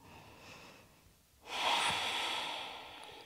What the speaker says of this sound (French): Une belle respiration là-haut.